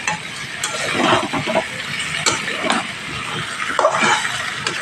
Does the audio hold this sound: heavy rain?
no